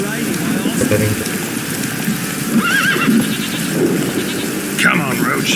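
Roach, a horse in the Witcher video game, neighs and whinnies with clopping hooves, loud and close amid steady game ambience, while someone talks over it.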